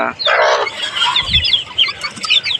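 Native hen and her chicks in a home poultry setting, with loud close clucking and high chick peeps plus a brief wing flap, without talk.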